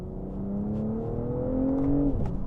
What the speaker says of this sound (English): Let me get around this corner here so I can see if there's any cyclists, and then we'll boot it.